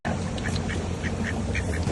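Repeated duck quacks at a lake, short calls spaced through a dense, loud wash of broadband background noise, without speech.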